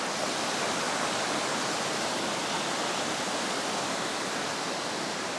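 A waterfall pours around boulders on a mountain hike, a steady, dense roar of rushing water that stays loud and unbroken throughout, with no voices.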